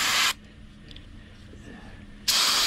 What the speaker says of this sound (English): I have some brake clean and a rag. I'm gonna spray this out.